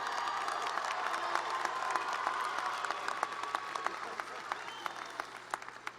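Audience applause at a college graduation ceremony for health and human services graduates: a broad, even wash of many hands clapping at a distance, with sharper individual claps standing out as it continues.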